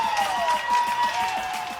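A basketball crowd roars and applauds after a big late basket with seconds left, a loud sustained wall of clapping and cheering filling the arena.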